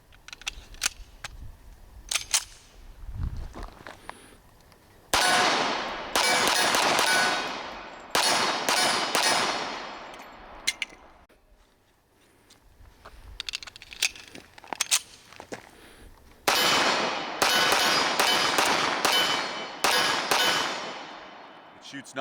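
Magnum Research and Iver Johnson 1911 Commander pistols with cast frames fire Sig Sauer 45 ACP 230-grain rounds in spaced bursts of loud, sharp reports that ring out between quieter pauses.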